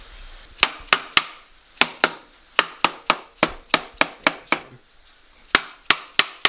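Sharp wooden taps from a hammer handle in quick irregular bursts, about a dozen and a half strikes, close and crisp with short gaps between groups, during a Muncie M20 transmission rebuild.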